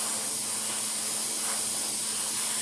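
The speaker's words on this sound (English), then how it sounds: "Then spray that much further down." Spray paint hisses in a steady, unbroken stream onto an E-flite A-10 Thunderbolt II model, close and constant from start to finish.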